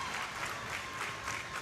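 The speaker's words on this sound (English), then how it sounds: "Crowd getting loud now as it is match point" A high school girls' varsity volleyball crowd at match point claps and cheers in a steady, dense roar that fills a gym, loud and unbroken throughout.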